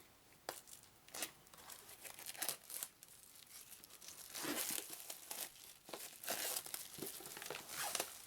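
Close, crisp crinkling and tearing of wrapping as a 2016 Thames & Kosmos Brutal Kingdom card game box is opened, coming in irregular bursts that grow busier toward the end, with no talking.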